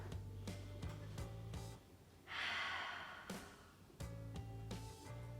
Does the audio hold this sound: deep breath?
yes